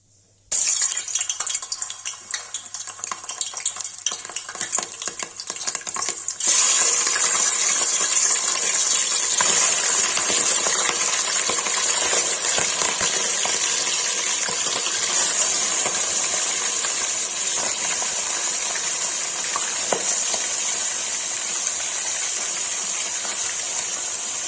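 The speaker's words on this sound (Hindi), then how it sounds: "मटन फ्राई के लिए रख दिया है" Mutton sizzles and spatters in hot oil in a pan while Kashmiri mutton rogan josh is cooked, a steady loud frying hiss after a quieter start, with no talk over it.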